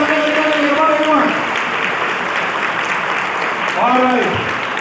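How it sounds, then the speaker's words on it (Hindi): A crowd of people applauds with a steady, dense wash of clapping lasting several seconds, while voices talk over it briefly at the start and near the end. "एक बार जोरदार तालियां बजाएं एवरीवन।"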